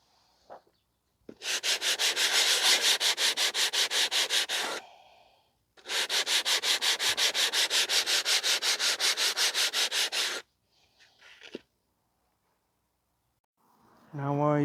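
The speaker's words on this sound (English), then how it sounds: "I'm using 80 grit coarse sandpaper, aluminum oxide." Coarse 80-grit aluminum oxide sandpaper rasps over front brake parts from a 2020 Honda CR-V 1.5, two long loud bursts of fast rhythmic back-and-forth strokes, close up, with breathing and brief pauses between.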